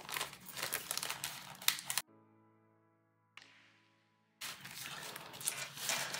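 Crinkly wrapping on a gift package with a flower design is pulled open in two busy, close bursts. A short ringing chime tone fills the quiet gap between them.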